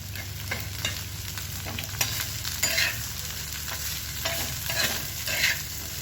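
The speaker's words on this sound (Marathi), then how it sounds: "तेल टाकून भेंडी चांगली भाजून घ्यायची, म्हणजे चिकट होत नाही।" Okra (bhindi) frying in oil in a pan, a steady close sizzle and crackle with spatula stirring strokes scraping through it at irregular intervals, fairly loud and without talking.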